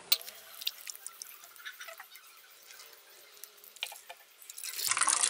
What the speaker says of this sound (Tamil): தேங்காய் பால் நல்லா வடிகட்டி எடுத்தாச்சு